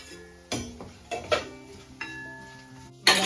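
A lid goes onto a pan of batata poha with peanuts, giving a few sharp metallic clinks and clatters spaced across a few seconds, close and fairly loud, with a louder clatter at the end.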